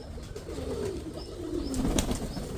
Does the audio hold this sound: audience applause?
no